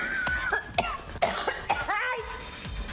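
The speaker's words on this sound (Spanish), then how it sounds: "Ahora amanecí ronca, con tos de foca horrible" A woman coughs hoarsely in several harsh, barking bursts, close and loud, broken by short strained breaths.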